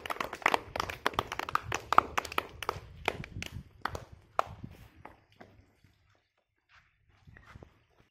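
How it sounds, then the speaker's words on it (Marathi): Students at a village district council school clap together on cue, a burst of dense overlapping hand claps that thins out into a few scattered claps and then fades near the end. "चला टाळ्या वाजवा सर्वजण."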